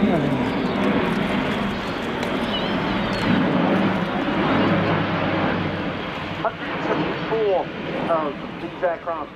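An Airbus A400M Atlas military transport aircraft flying a display at RAF Fairford airshow, a broad roaring engine drone sustained throughout under a commentator's voice, with some crowd noise near the end.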